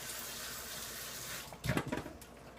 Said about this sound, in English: Let me give that a quick rinse.